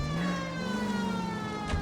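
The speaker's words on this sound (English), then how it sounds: "I got my siren on." Police car siren from the L.A. Noire video game on Xbox 360, a steady wailing tone with layered harmonics that rises and falls gently, loud and close over a low engine rumble, with no talking.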